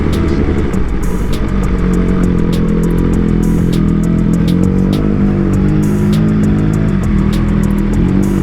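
Motorbikes ride through heavy, congested town traffic, a steady loud engine rumble and drone filling the whole stretch, with occasional revs and passing car noise mixed in and no talk.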